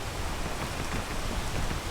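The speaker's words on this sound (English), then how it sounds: "I gotta wait for the rain." Steady, dense rainfall in the video game Ascent, a continuous close hiss of rain that holds evenly for a couple of seconds with no voices over it.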